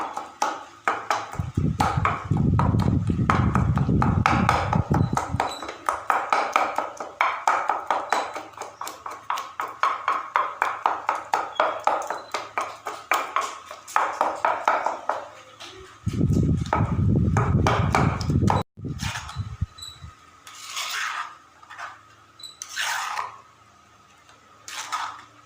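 Finely chopped tomatoes are pounded and crushed for a roasted eggplant bharta, giving long runs of rapid, rhythmic tapping with a few heavier thuds and short pauses.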